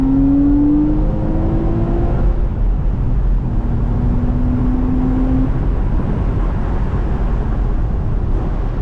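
A Porsche Boxster, weighing just under 3,000 pounds, pulls hard in second gear, its engine note climbing loud and close before a shift, then rising again over heavy road and wind roar.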